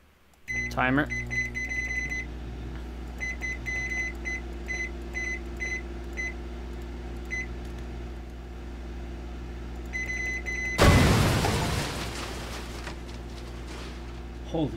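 Microwave timer in the Cooking Simulator game beeping in short repeated electronic bursts over a steady hum, ending with a louder burst of noise.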